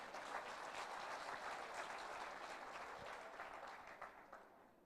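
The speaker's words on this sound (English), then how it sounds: "Clap for yourselves." Conference audience applauding at a district conference at Speke Resort Munyonyo, a dense, steady wash of many hands clapping that holds for about five seconds and tapers slightly at the end.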